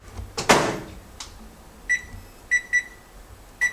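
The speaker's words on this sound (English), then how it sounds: "First thing you need to do is you need to microwave it." Microwave oven heating two cups of cauliflower: a few faint clunks and thumps at the start, then a series of short electronic beeps, spaced irregularly and fairly near.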